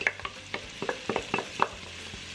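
Onions sautéing in a pan and stirred with a wooden utensil, a rapid series of close scraping strokes and clicks over a light sizzle, no voices.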